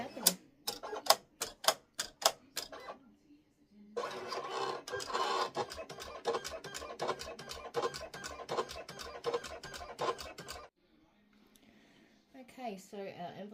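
An electronic cutting machine slices a textured cardboard envelope for a shadow box: quick rhythmic mechanical taps and whirring bursts, a short pause, then a dense stretch of steady chattering motor strokes that stops abruptly near the end.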